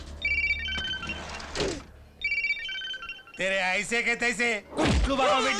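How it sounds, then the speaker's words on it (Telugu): A mobile phone rings with a song ringtone, repeating bright melodic beeping phrases followed by sung vocal lines, loud and close. "అరే రింగ్ అవుతుందిరా."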